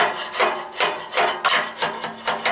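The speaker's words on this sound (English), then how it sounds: "I just have to chisel away at it right along in here with a" Rhythmic, harsh scraping of a hammer and screwdriver chiseling at the exhaust flex pipe of a 1997 truck, about eight strokes in a steady back-and-forth pattern, close and loud.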